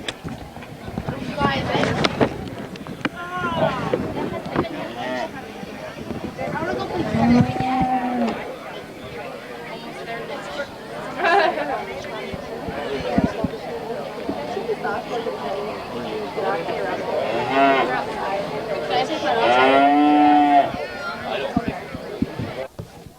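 Cattle moo several times, loud and fairly close, in a livestock show ring at an FFA agricultural fair. Wind buffets the microphone and people talk throughout.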